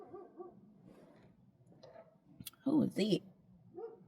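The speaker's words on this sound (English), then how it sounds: "oh, she's so cute little doggy" A small dog barks a couple of times in close succession, sharp and near, between stretches of quiet speech indoors.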